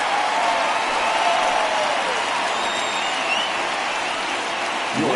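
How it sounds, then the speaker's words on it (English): Steady, dense crowd applause fills the stadium as a home crowd gives a departing pitcher an ovation in the MLB The Show 19 baseball video game, a continuous even roar without a break. "he receives a nice ovation from this home crowd"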